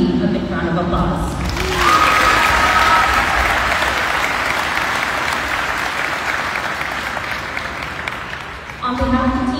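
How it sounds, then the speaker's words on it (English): A crowd at a send-off ceremony for Team Marianas, bound for the Pacific Mini Games in Palau, breaks into loud, sustained applause that fills the space for about seven seconds. Voices are audible briefly before and after it. "Let's give this outstanding team a big round of applause."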